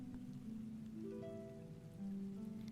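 Rain falls steadily outside on a rainy night, a continuous soft hiss with a low tonal hum running beneath it and no voices.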